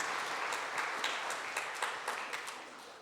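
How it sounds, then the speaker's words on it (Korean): A church congregation at a Sunday worship service applauds in a steady, dense wash of clapping that holds for the whole stretch, with a few sharper individual claps poking through. "우리 수고한 속회들을 위해서 박수 한번 크게 한번 하시죠."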